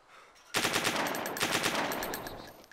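Rapid automatic fire from a PM-73 RAK in the video game DayZ, one dense loud burst of quick shots starting abruptly and running for about two seconds before easing off slightly.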